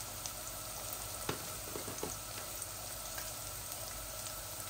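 Tomatoes fry in a pan with a steady, close sizzle and scattered small pops and crackles, with no talking.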